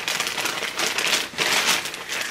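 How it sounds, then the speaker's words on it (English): Paper wrapping around newly purchased home-goods store items rustles and crinkles continuously at close range, a dense papery crackle that swells and eases without any talking. "you're going to hear some rumbling of the paper, with some rustling of the paper"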